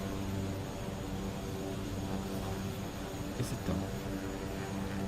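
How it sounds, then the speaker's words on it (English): Aircraft engines in Microsoft Flight Simulator give off a steady, even drone throughout, with a voice briefly talking over it. "you can certainly hear the engines, folks"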